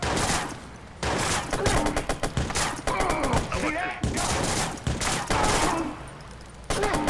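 Gunfire in the Watch Dogs video game: rapid bursts of loud shots and volleys in irregular clusters, some sharp single cracks between them, with game voices mixed in underneath.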